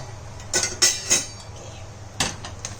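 Curd rice is mixed in a metal vessel with a spoon that knocks against the sides, making a few sharp clinks and taps spaced apart over a quiet background.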